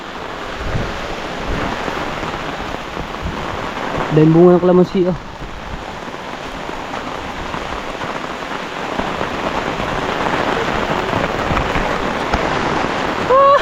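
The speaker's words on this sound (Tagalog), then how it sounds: "Lakas ng ulan man." Steady heavy rain pours down, a constant hiss close by, while a person speaks briefly partway through and wind gusts swell toward the end.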